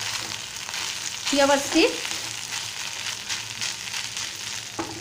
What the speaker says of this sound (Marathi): आता व्यवस्थित परतून घेऊया भात